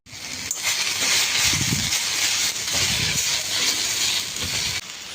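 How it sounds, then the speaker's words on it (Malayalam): Curry leaves, dried red chillies and salt sauté in a pan with a steady, loud hiss and sizzle that lasts throughout, with faint stirring rattles underneath. "കറിവേപ്പില, വറ്റൽ മുളക്, ഉപ്പ് എന്നിവ ഇട്ട് ചെറിയ രീതിയിലൊന്ന് വഴറ്റിയെടുക്കാവുന്നതാണ്"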